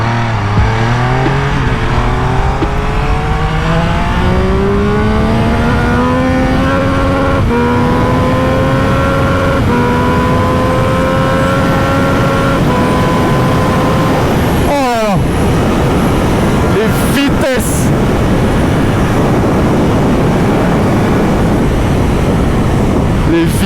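A Triumph Speed Triple 1200RS 2025 motorcycle pulling hard in sport mode, its engine note climbing steadily through the gears with loud, continuous wind rush around the rider and a brief gear change break.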